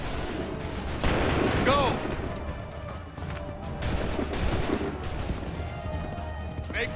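Musket volleys roar in Assassin's Creed III, with several heavy, rolling bursts of massed gunfire one after another. A shouted command is heard among the shots.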